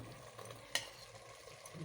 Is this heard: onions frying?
yes